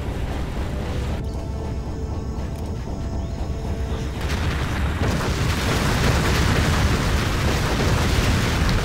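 Artillery bombardment in the Rise of the Reds strategy game, a dense, continuous roar of overlapping explosions and booms that grows louder and thicker partway through, heard without talk.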